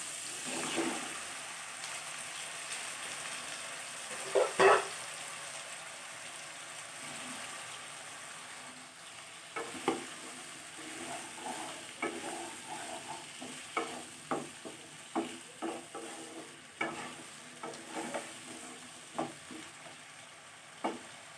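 Cut vegetable stalks stirred through a simmering rui fish curry with potato and tomato, giving a soft bubbling sizzle broken by a run of sharp spoon scrapes and clacks against the pan, with no voices.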